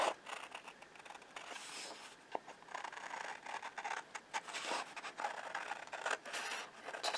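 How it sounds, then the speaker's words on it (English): Scissors cut through a paper sewing pattern to remove a dart, a soft, faint scratchy rasping with irregular snips and rustles, close and quiet, without speech. "So I'm going to cut the dart out."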